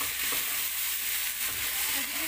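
Aloo gobi vegetables coated in masala cooking in a pot, giving a steady, dense hiss of sizzling and simmering that stays constant and close throughout, without talk.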